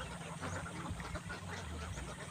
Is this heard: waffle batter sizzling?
no